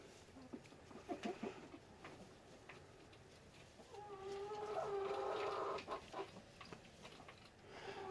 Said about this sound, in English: hear the rooster.